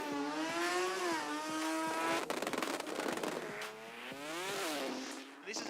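Rotary-engined drag race cars scream at high revs during a launch at a Brisbane drag strip, pitch climbing and dropping through gear changes, loud and close with a burst of rough noise mid-run and a commentator's voice over the engines.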